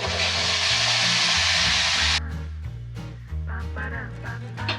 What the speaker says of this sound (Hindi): तो अब टमाटर को अच्छी तरह से हम भून लेंगे, तेल छूटते तक इसको भून लेंगे।